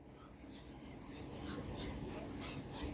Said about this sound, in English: So we're going to lightly sand around the perimeter, and we want to lightly sand where we brush stroked it.